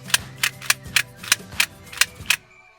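A Transformers Cyberverse toy fires its Hive Swarm lasers: eight sharp, close clicking pops in a quick, fairly even rhythm, then a brief quiet tail.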